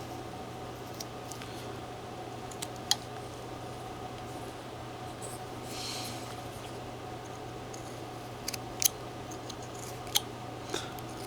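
A whittling knife carving a face into a wet, stringy basswood block, heard as faint scattered clicks and small snips over a steady low hum, close by and without talk.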